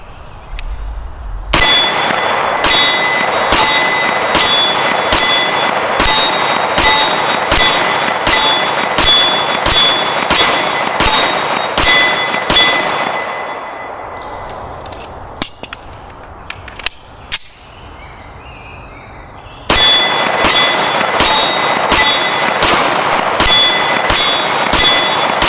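A Beretta 92FS pistol fires rapid, evenly spaced shots in two loud strings, and each shot rings off steel targets. A quieter stretch of handling noises lies between the strings.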